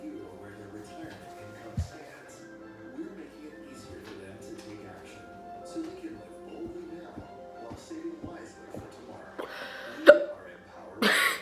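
A person hiccups several times in a quiet room, short sharp catches spaced seconds apart with a louder one near the end, amid occasional talking.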